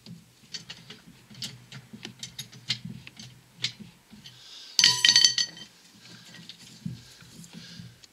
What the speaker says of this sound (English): Loosen the tensioner roller bolt.